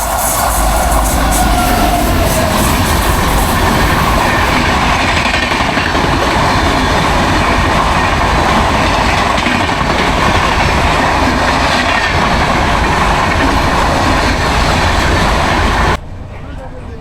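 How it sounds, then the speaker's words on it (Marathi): Diva passenger train rolling along the rails, a loud, steady close-up roar of wheels and carriage rumble with rhythmic clickety-clack, lasting throughout before dropping off abruptly at the end. "खूप दिवसांनी मी दिवा पॅसेंजरनी गावी चाललो होतो आणि पहाटे 5 वाजता ट्रेन पकडली"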